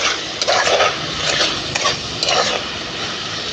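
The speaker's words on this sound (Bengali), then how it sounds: "এবার এগুলো দিয়ে ভালো করে কষিয়ে নেব।" Ground chili, cumin, coriander and turmeric frying in a pan for a rohu fish curry, heard as a soft sizzle with scraping stirring strokes in irregular bursts, fairly close and without talking.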